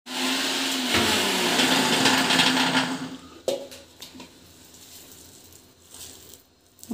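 A kitchen mixer grinder whirs loudly, grinding chicken keema with masala to a smooth paste, a steady high motor drone for about three seconds before it winds down, followed by a few faint clicks and knocks.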